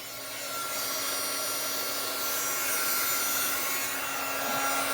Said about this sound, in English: I've got the heat tool aimed at it now.